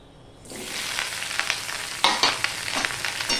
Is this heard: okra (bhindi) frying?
yes